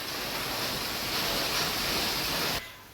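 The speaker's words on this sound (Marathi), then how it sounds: "बाहेर खूप मोठा पाऊस चालू आहे" Heavy rain pouring outside, a dense, steady hiss of broadband noise that stays loud for a few seconds before cutting off, with no voices.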